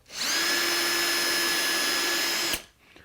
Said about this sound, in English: So again, the self-centering drill